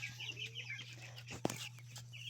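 Chickens cluck softly nearby in short scattered bursts over a steady electrical hum, with a brief sharp knock partway through.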